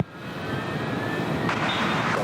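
A Jetstar jet airliner rolls for takeoff on runway 14 at Gold Coast Airport, a steady broad engine roar building gradually and heard from a distance, with no voices over it.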